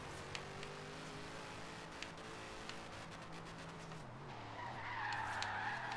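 Tires squeal and skid as a race-tuned car with ground effects slides sideways in the Forza Horizon 3 racing game, with a steady engine drone underneath and a louder, higher screech building toward the end.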